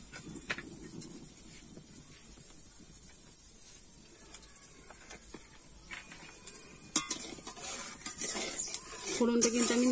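Black cumin seeds tempering in hot oil, a faint steady sizzle with occasional scrapes and clinks of a stirring spoon against the pan, fairly quiet, with a brief louder clatter near the end.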